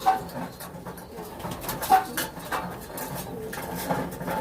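Homing pigeons return to their loft after their first five-mile flight, giving soft, scattered coos and wing flutters amid a light, noisy outdoor background.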